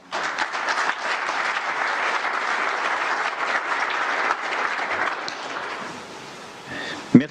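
An audience applauds French president Emmanuel Macron at a formal address, with sustained, dense clapping that stays steady for several seconds, then thins and fades toward the end.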